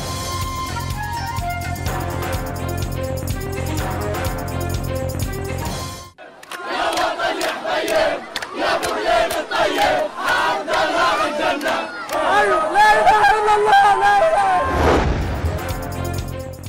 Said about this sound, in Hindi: फलस्तीनियों का जश्न, बच्चे बूढ़े और जवान सड़कों पर निकल आए।